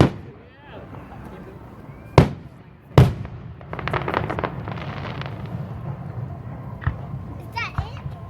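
Neighborhood fireworks go off in Selma, California, with two sharp loud bangs followed by a crackling burst and a few more pops. Children and adults chatter and exclaim nearby throughout.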